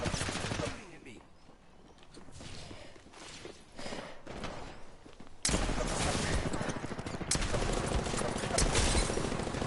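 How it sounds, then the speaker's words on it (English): Automatic weapon fire crackles in Apex Legends, rapid bursts over the first half, then growing louder and denser after the midpoint, with sustained shooting under a voice talking. "Shooting at me."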